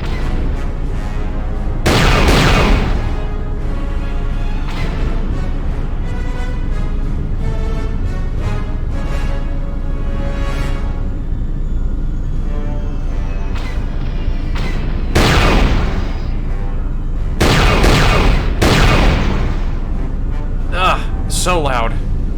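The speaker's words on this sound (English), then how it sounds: "I apologize for how loud these turrets are." Loud turret gunfire in Knights of the Old Republic 2, with heavy booming bursts repeating over a constant roaring background of engine noise and game sound, intensifying in clustered volleys near the middle and end.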